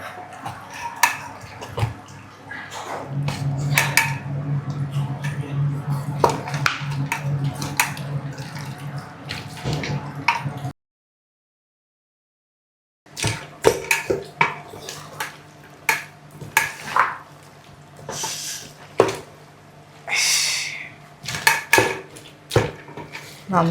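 Beef and mashed tapioca for kappa biriyani are stirred and mixed in a pot with a spoon. Scraping, clinking strokes come in irregular bursts, with a brief silent gap partway through.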